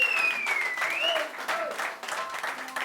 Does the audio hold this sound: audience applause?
yes